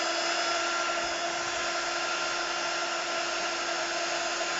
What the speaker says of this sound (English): if you go over it again with your heat tool, it makes it shine.